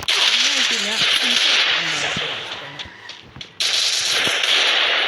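Free Fire gunfire, including a Desert Eagle, cracks out in sharp repeated shots over a loud, dense game soundscape, with a tonal music line underneath.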